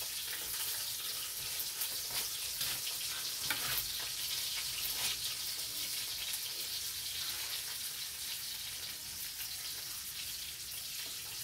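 Sardines frying in a pan over a wood fire, a steady dense sizzle and crackle of hot oil that carries on evenly, close and fairly loud, with no voices.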